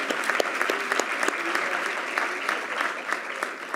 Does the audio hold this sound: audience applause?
yes